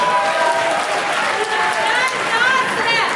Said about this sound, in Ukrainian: Давайте Львову поаплодуємо теж.